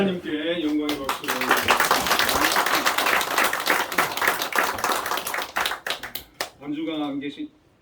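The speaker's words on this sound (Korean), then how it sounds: "우리 하나님께 영광의 박수를." A church congregation at a Sunday service bursts into dense clapping that swells, holds, then breaks into scattered claps before fading. A voice speaks briefly before and after.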